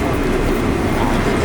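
Steady, loud rumble of a New York City subway train idling or moving slowly through a station, with a constant mechanical roar and no distinct voices.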